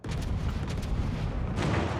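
Naval guns fire in World of Warships, making a dense, rumbling boom that rolls on continuously and ends in a sharper burst of noise.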